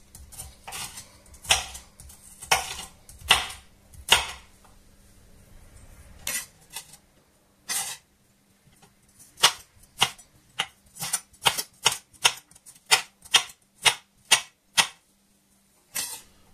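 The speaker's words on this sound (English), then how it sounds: "everything is chopped up" Knife chopping ingredients for a Spanish seafood fideuà on a board, with a quick run of sharp taps, a short pause, then a steady, evenly spaced series of crisp chops close by.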